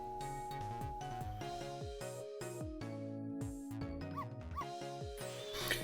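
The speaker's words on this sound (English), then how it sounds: "I barked and you bet I did." A dog barking and yipping in the Ghost Trick: Phantom Detective video game, short repeated barks over a busy musical soundtrack with no talking.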